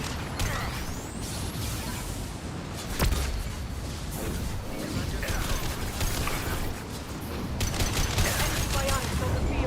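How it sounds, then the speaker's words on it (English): A flashbang grenade goes off in the video game Mass Effect 2, a sharp burst amid a dense, noisy firefight with crackling gunfire and clattering effects throughout, fairly loud and sustained. "Watch out, flashbang!"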